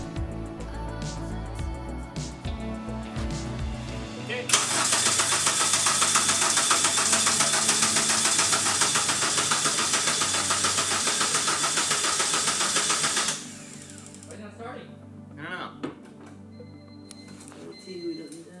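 A Honda Civic with a swapped K-series engine cranks and starts, a steady loud rush of engine noise running for several seconds before dropping to a quieter idle, with people talking around it.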